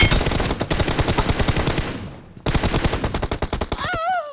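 Rapid bursts of automatic gunfire in PUBG Mobile, loud and close, with a brief pause before the shooting resumes, then a rising whistling tone near the end.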